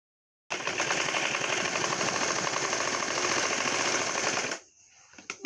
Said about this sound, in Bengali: এভাবে আমি পুরোটা কাপড় সেলাই করে নিব।